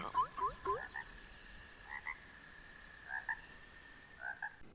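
Frogs in the video game Hytale croak in short chirping bursts, a quick cluster at first and then single calls spaced about a second apart, clear and fairly near against a faint steady background.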